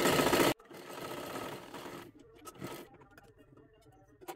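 Domestic sewing machine stitching a salwar dress, running in short bursts with a loud opening run, then a steady whirr and quieter stop-start stitching close by.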